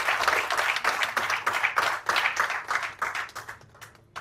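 Sustained audience applause at a coaching awards ceremony, dense and fairly loud clapping from a crowd that holds steady and begins to thin toward the end.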